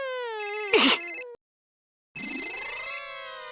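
A phone rings in a Taarak Mehta Ka Ooltah Chashmah scene: a bright, tonal electronic ringtone plays, breaks off into a short silence, then starts again, clear and unaccompanied.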